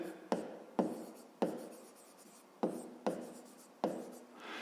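Pen or pencil writing by hand on paper, six distinct scratchy strokes in an uneven rhythm, close and quiet with no talk.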